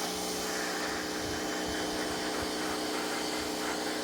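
A pressure washer sprays prewash chemical onto heavy soiling, giving a steady, loud broadband hiss with a constant pump drone that runs unbroken throughout, with no voices.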